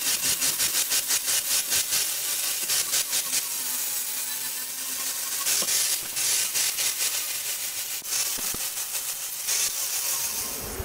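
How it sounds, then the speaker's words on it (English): An angle grinder grinds tape off the surface of a resin end table set with seashells, a loud continuous whine with rhythmic pulsing passes, near and alone. "Grinder does a real good job of getting the tape off and kind of just trying to get everything level"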